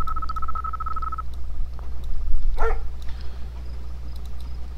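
A dog unit in the real-time strategy game Command & Conquer: Red Alert 2 – Yuri's Revenge gives a short sharp bark midway, over a steady low game hum and a faint tonal beep at the start.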